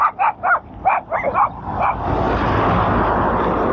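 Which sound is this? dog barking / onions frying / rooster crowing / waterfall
dog barking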